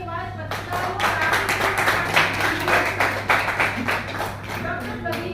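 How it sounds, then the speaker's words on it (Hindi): Audience applause for senior journalists at a Hindi-language political press gathering in Jaipur, a steady wash of many hands clapping throughout with a low electrical hum beneath and some voices mixed in. "सर तालियों की आवाज पत्रकारों को"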